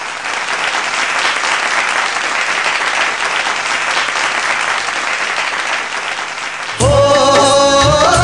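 A concert crowd gives a singer loud, dense, sustained applause for about seven seconds, then the applause breaks off as music starts.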